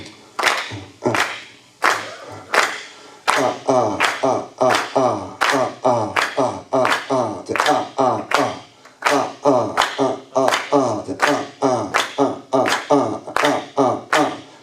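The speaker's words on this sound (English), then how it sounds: "if y'all just clap this for 3, 4." An audience at a drum clinic claps a steady syncopated rhythm together, loud and close, with crisp, evenly repeating patterns of sharp claps that run the whole time.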